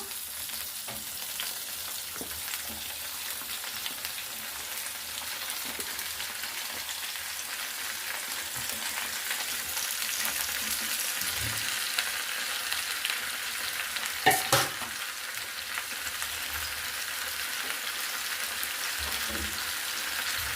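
Tomato pieces fry in a pan with a steady broadband sizzle, broken by occasional soft scraping stirs and a brief louder clatter midway, with no talking.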